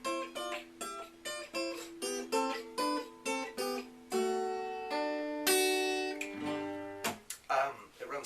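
A guitar plays the intro lead of a song: a quick run of clear, close plucked notes in a bouncy rhythm, a few longer ringing notes, then a sharp final strum.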